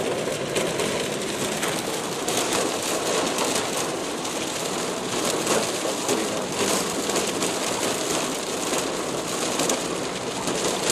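Heavy rain pours down in Doha, Qatar, a dense, loud, unbroken hiss of water drumming on surfaces that holds steady throughout, with faint scattered background sounds beneath it.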